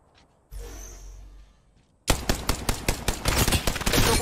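Video game gunfire in Apex Legends: a brief rough burst and rumble, then a loud rapid string of sharp shots with a steady close rhythm that runs to the end.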